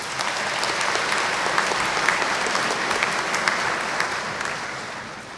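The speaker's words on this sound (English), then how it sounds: "Please give a warm welcome of applause to Lori Johnson." Audience at a spring commencement ceremony applauds steadily, a dense, even wash of clapping from a large crowd that tapers slightly at the end.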